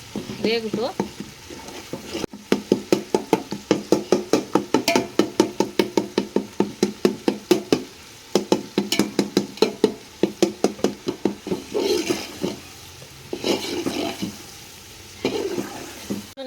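Tomatoes for biryani simmering in a pan and being stirred, a long run of rapid rhythmic scraping strokes over a low bubbling sizzle, close, with short pauses between bursts.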